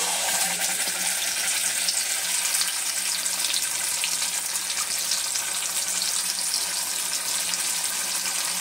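A batter mixture hitting hot oil, giving a dense, continuous sizzling hiss that stays loud and even throughout with no voices over it.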